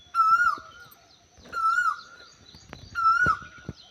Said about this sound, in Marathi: कोकिळा कशी ओरडते बघा,